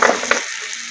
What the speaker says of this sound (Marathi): आता ते भाजी टाकणार आहे त्याच्यामध्ये.